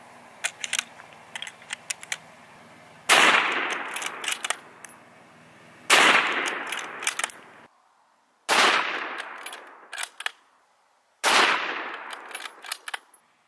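Gunshots fired into a hay bale outdoors: four loud, sharp reports spaced a few seconds apart, each followed by a short decaying echo, with faint clicks and handling noise between them.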